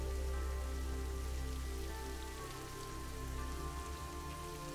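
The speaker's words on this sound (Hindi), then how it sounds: "हल्की हल्की बूंदाबांदी हो रही है।" Light drizzle falls steadily on surfaces outdoors under a cloudy sky, a continuous dense patter with a low hum beneath, even in level and heard alone with no voices.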